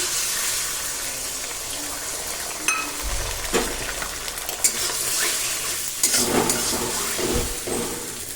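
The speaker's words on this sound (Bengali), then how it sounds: "ডিমটা ভাজা হয়ে গেল" Two eggs fry in oil in a pan while pasta is cooked. A steady soft sizzle runs throughout, with a few utensil scrapes and clinks.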